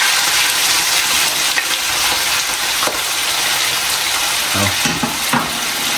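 Chicken fries loudly in a pan with a continuous dense sizzle and occasional stirring scrapes and clinks near the end; a voice briefly exclaims once.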